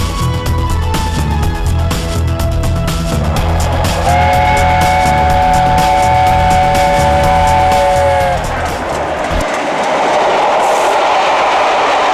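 A train rumbles loudly nearby at Rugeley Town Railway Station in pouring rain while a steady whistle sounds for several seconds, then the heavy rumble drops away, leaving hissing noise.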